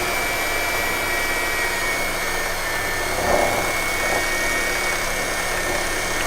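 A hand mixer whirs steadily through cream cheese pound cake batter, a close, continuous motor drone with a brief bump in strength midway.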